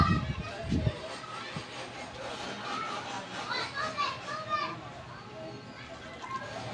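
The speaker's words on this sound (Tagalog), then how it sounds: "Naglalaro sa baba guys, mga bata." Children play in a space below a rooftop garden, their distant voices and shouts rising and falling faintly, with a few louder thumps near the start.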